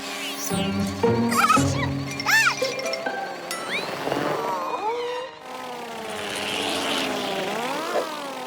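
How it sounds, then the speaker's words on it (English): A drone in a children's cartoon buzzes and whirs with a propeller-like drone that shifts pitch, mixed with bright animated sound effects and music, loud and close throughout without speech. "look, a drone."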